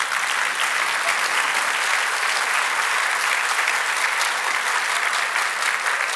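Dense, continuous applause from a large audience for a Brazilian minister at a political speech, loud and steady for several seconds with no voices on top.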